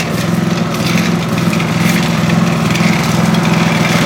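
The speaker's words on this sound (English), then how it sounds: "You can actually hear it, the nuts rattling around in there." A Briggs lever-start lawn mower engine with loose nuts inside runs steadily at close range, a loud, even, pulsing chug with a faint rattle mixed into the drone and no voices.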